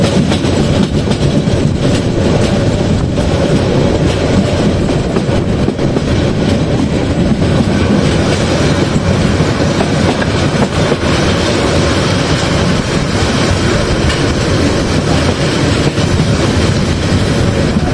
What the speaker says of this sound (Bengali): ট্রেন এখন প্রবেশ করতে চলেছে মেথিকান্দা রেলওয়ে স্টেশন।